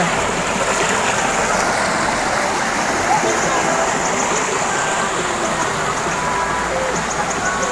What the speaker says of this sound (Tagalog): nandito kami ngayon sa ilog